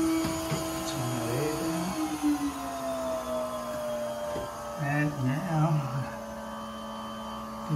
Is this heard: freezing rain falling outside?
no